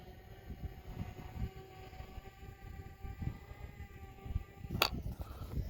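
A Fimi X8 Mini drone climbs to altitude on its first flight, its motors giving a steady, droning whine with layered tones over gusty wind noise, with one brief sharper burst near the end.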